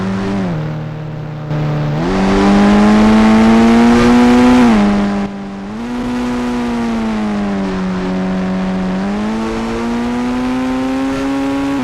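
A motorbike engine in the Indian Bike 3D video game hums and revs, its pitch climbing, holding and dipping through several throttle changes, loud and continuous with no talking.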